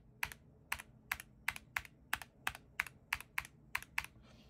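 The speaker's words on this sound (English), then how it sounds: "a few of the keys have a little bit of a ping" Typing on a DrunkDeer A75 mechanical keyboard, with about a dozen evenly spaced, crisp clacky keystrokes recorded close and quiet, with nothing else around them.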